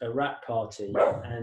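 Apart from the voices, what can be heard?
dog barking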